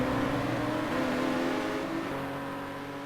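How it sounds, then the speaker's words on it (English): A race car engine revs hard in a racing video game, a loud, steady high-pitched whine with shifting pitch that fades slightly toward the end, alone with no talk. "the sheer engine sounds of what Raceway's got, because he's pushing the life out of that car right now."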